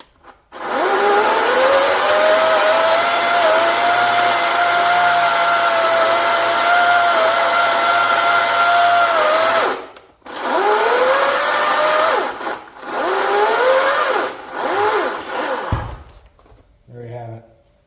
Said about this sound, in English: the saw has plenty of power. Went right through this.